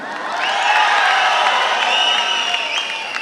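A large crowd at the Margazhiyil Makkalisai 2023 stage event cheers with sustained shouts and whoops, a loud, steady roar of voices with clapping mixed in, lasting a few seconds.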